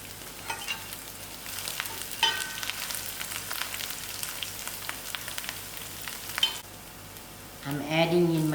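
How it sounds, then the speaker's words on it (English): Browning onions with mustard seeds and green chilies fry in a pan for a spicy chutney, giving a steady close sizzle with crackling pops and stirring scrapes; near the end a short burst of voice-like tonal sound rises over it. "Now while the onions is browning, I will hand in my mustard seeds and my green chilies to fry in."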